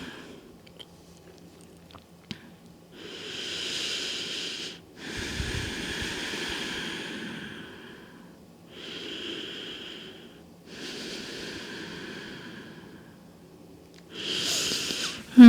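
Slow, deep breaths during a yoga vinyasa flow, long airy inhales and exhales at an unhurried pace, close and soft with no talk.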